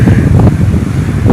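Strong sea wind buffets the microphone at Poompuhar Beach in Tamil Nadu, a loud, continuous low rumble with gusty swells and possible surf beneath, no voices.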